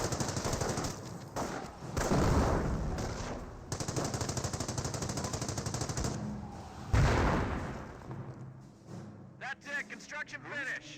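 Sustained .30 cal machine-gun fire in the Company of Heroes game, steady rattling bursts layered with other battle noise and a commentator talking over it.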